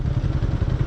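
A motorcycle engine idles close by at a fishing spot in Taiwan, giving a steady low rumble with a slight clattering pulse through the whole moment.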